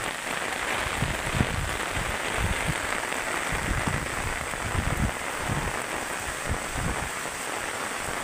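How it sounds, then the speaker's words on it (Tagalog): Heavy typhoon rain pours steadily in a dense, continuous hiss, with low rumbling gusts swelling underneath throughout, in Masbate, Philippines. "napakatindi at napakalakas ng buhos ng ulan"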